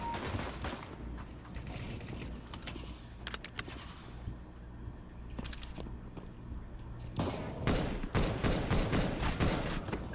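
Rapid bursts of gunfire in Counter-Strike: Global Offensive crackle through a steady background, growing denser and louder toward the end, with sharp clustered shots.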